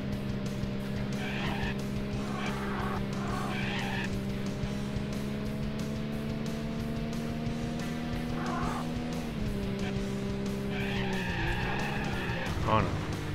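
In the Sega Saturn version of Need for Speed, a car's engine drones steadily while its tires squeal and skid under the handbrake, with the pitch dipping and rising near the end, and someone talks briefly over it.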